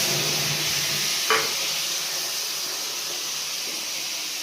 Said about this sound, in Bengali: শুকনো মশলাটা জলে ভিজিয়ে নিয়েছি, জলে গুলিয়ে তেলের উপর দিয়ে দেবো